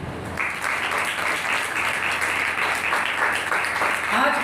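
Sustained applause from a crowd at an ordination ceremony in Karachi, steady and fairly loud throughout, with a voice briefly audible near the end.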